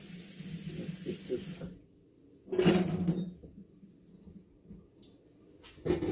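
A tap runs in bursts with splashing water in a sink, cutting off and restarting, with faint clatter in between.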